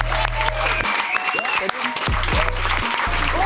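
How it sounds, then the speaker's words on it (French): Audience applause greets a guest on a French talk show, an even wash of clapping under a steady droning musical tone, while voices speak briefly over it. "On va l'applaudir."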